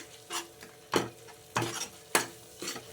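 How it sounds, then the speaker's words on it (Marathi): Ginger garlic paste masala is sautéed in oil and stirred in a pan. About five distinct scraping strokes sound at a slow, even pace, close but quiet, over a faint sizzle. "आता आपण थोडीशी परतून घेऊया"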